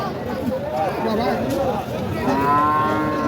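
A large cow moos at a crowded livestock market in Natore, Bangladesh, its long drawn-out low calls rising over steady crowd chatter and nearby talking.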